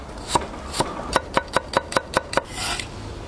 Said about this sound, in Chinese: 再切点姜蒜片